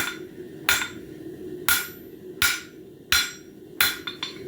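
Hammer blows on hot metal at the forge while shaping a bird feeder hanger, working all four sides to hold a square right angle: five loud, sharp ringing strikes at roughly even spacing, then a couple of lighter taps, close up over low shop hum.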